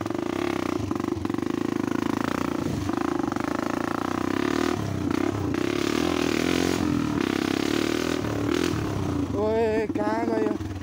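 A motorcycle rides off-road through jungle and village fields in Mustang, its engine droning loudly and steadily up close, with revving surges, clatter over rough ground and a voice shouting over the noise.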